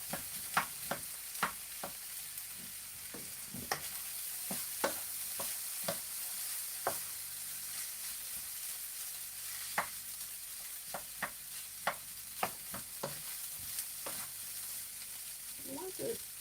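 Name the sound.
stirring and loosening fried rice with a spoon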